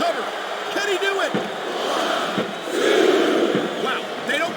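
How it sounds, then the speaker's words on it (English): A wrestling arena crowd cheers and roars in the WWE SmackDown vs. Raw 2007 video game during an Undertaker versus Viscera match, a steady loud crowd swell under commentators talking throughout. "It seems like everywhere he goes, the crowd really gets behind Viscera"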